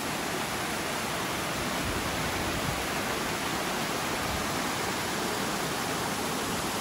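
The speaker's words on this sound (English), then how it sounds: "Came across another beautiful waterfall." A waterfall on the Appalachian Trail roars as a steady, dense broadband rush. It sounds close and constant for the whole stretch, with no voices.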